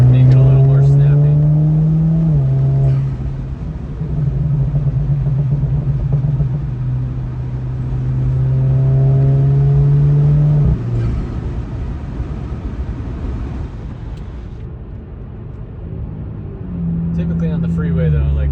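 An Audi fitted with a Pedal Commander cruises on the freeway, its engine droning steadily and dropping in pitch as it shifts up into eighth gear, with road and wind noise throughout and a voice talking over it.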